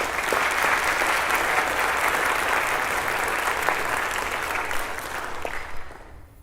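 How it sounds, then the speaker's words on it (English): A large audience claps steadily for Guru Rupali Chaudhuri at a Bharata Natyam arangetram, a dense, sustained wash of applause that thins and fades out near the end. "A big round of applause for Guru Rupali Chaudhuri"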